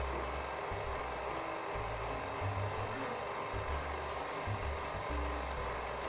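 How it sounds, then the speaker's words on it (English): An electric stand mixer running steadily while mixing sugar cookie dough, a continuous loud whirring hum with some low fluctuating rumble from the beaters. "Let's turn the mixer on."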